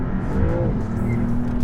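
Maserati MC20 GT2 Stradale engine pulling hard while driving, a close, loud, rough drone with a brief rising rev partway through.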